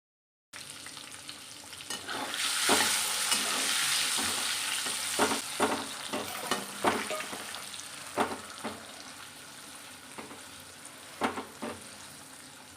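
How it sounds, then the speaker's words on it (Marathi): Eggs fry in a hot pan seasoned with turmeric and garam masala, giving a steady close sizzle with repeated sharp crackles and stirring scrapes and no talk. "थोडीशी हळदपूड टाकायचे आणि थोडासा गरम मसाला टाकायचा आपल्याला, आणि ही अंडी फ्राय करून घ्यायची"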